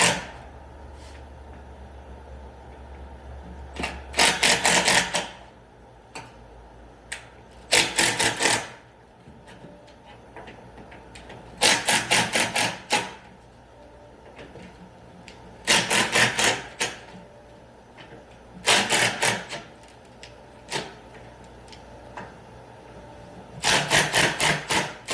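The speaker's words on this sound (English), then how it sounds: "back out the 8 fasteners that hold the seat assembly to the leg assembly." A power driver backs out the fasteners that hold a chair's seat assembly to its leg assembly, giving about eight short, loud whirring bursts separated by quiet pauses, with no talking.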